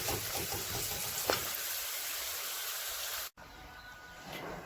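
Ginger and garlic fry in a pan in a home kitchen, giving a continuous soft sizzle with light stirring scrapes and a brief clink before a short cut.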